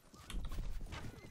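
Horses gallop through a crowded medieval battle in the game Mount & Blade, hooves clip-clopping loudly in a dense rush with a whinny rising over the din.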